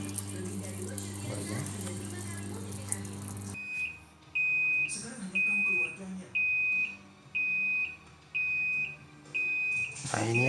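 A single-tub washing machine signals the end of its cycle with a series of seven evenly spaced, loud electronic beeps. Each beep lasts about half a second and is followed by a short pause. Water and machine noise come before the beeps.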